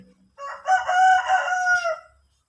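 A large rooster lets out one close, clear crow lasting about two seconds, rising and then trailing off, with no talking over it.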